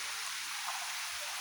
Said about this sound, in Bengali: বাইরে প্রচণ্ড বৃষ্টি নামছে,